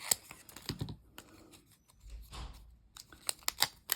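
Scissors snipping paper tree stickers while planning, a run of short sharp cuts and rustles, close and fairly quiet with brief pauses between snips.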